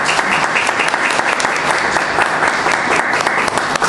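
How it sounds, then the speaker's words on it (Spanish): A church congregation gives a loud, sustained round of welcoming applause, dense steady clapping filling the room from start to finish without a break. "Démosle ese fuerte aplauso de bienvenida."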